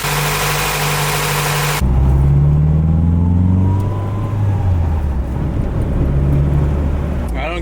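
A project car's engine surging at idle in a Midwest winter, a loud close rumble that rises and falls in pitch in repeated waves after a sharp start, with a voice talking over it.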